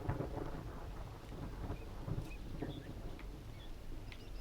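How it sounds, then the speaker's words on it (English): In a video game world, a low roll of thunder rumbles beneath a quiet wash of rain, faint and distant, with a few soft irregular swells and no speech. "Tiny little roll of thunder."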